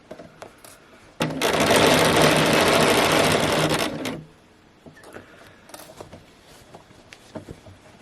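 A sewing machine runs in one steady burst of about three seconds, stitching down the seam allowance on a pinafore dress, with quiet handling and fabric rustle before and after.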